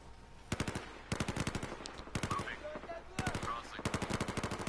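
Bursts of automatic machine gun fire in Battlefield 4, several rapid rattling volleys separated by short pauses, fairly faint overall with a little background game noise.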